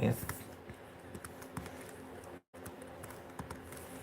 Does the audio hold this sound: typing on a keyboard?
yes